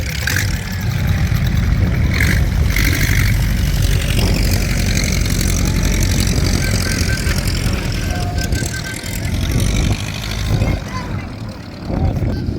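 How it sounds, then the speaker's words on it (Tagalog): Model T race cars run and rev at a dusty local racing event, their engines rising and falling in the near distance over a rough, continuous roar, with people chatting nearby. "Mga motor na yan."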